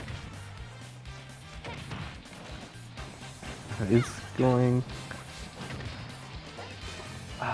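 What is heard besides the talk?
Bayonetta up smash attacks connecting in Super Smash Bros. video game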